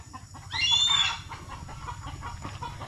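A single chicken lets out a short, loud squawking cluck near the start, followed by quieter background noise.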